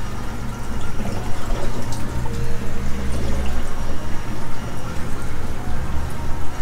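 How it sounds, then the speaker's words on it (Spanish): Soapy water poured into a planted aquarium to check it for leaks, a continuous, fairly loud splashing and trickling flow that holds steady throughout without speech. "ponemos algo de agua con jabón para verificar que no haya ninguna fuga"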